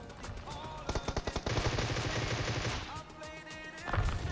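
Rapid automatic gunfire from a PUBG Mobile battle royale match, a tight burst of evenly spaced shots followed by a sustained din of fire and game noise, loud and close with no talking.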